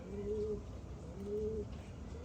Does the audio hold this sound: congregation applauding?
no